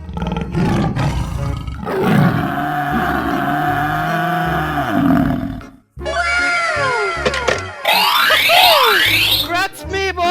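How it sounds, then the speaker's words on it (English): A tiger in a 3D animal video game gives a long, loud roar for about six seconds, then pauses. Rapid electronic swooping and chirping game effects follow. "Tiger."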